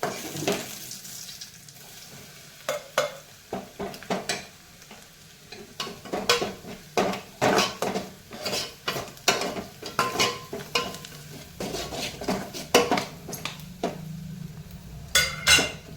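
Ground black masala with coriander sizzles in a frying pan for a cauliflower curry while a spoon scrapes and stirs, giving repeated sharp clinks and scraping bursts over a soft frying hiss, close up and without talk.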